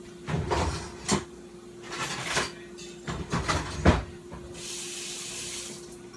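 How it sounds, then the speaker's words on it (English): Kitchen sounds while cooking gravy: a few sharp knocks and clatters of a pan and cupboard, then water from a kitchen tap running in a steady hiss into a pan near the end, with no talking. "gonna add the water"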